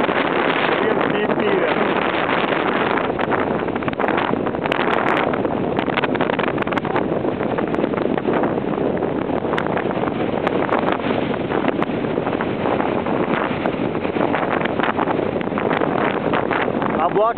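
Small tourist boat crossing rough sea off Crimea on a windy September excursion, with constant heavy wind buffeting the microphone and engine and water rumble filling the whole stretch, steady and loud throughout.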